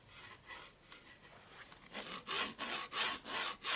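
A fingertip rubs over sharp rivet detail on the roof of a ThunderModel Scammell R100 artillery tractor model kit, giving a quiet, close scratchy rasp that starts faint and grows into rhythmic strokes toward the end.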